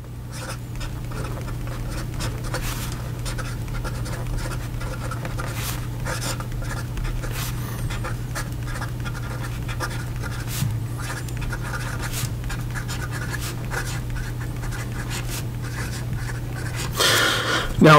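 A Sailor 1911 fountain pen with a hard broad nib scratches steadily across paper, a quiet, continuous writing sound heard up close over a low background hum.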